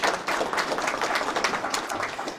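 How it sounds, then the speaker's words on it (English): An audience at a presentation event applauds, a steady dense patter of many hands clapping that runs unbroken for a couple of seconds with no voices over it. "So give her a round of applause for showing up tonight."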